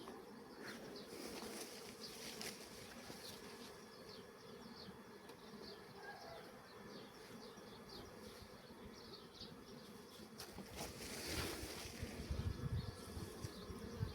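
Honeybees from a small colony swarm around an opened hive frame, a soft, steady, close buzzing hum that stays low in level throughout, with no voices.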